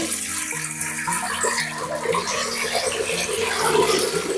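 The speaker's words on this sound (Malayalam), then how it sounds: "ഞാൻ ഇതിലേക്ക് കുറച്ച് അരിയാണ് ഇട്ട് കൊടുക്കുന്നത്. കുറച്ച് വെള്ളം ഒഴിച്ചു കൊടുക്കുന്നുണ്ട്." Water pours steadily into rice in a bell-metal uruli, a continuous close splashing and gurgling rush that holds at an even level throughout.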